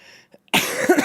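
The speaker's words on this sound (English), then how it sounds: "it was an incoming coughing fit." A short burst of harsh human coughing starts abruptly after a near-silent moment, loud and close, several rough hacks running together.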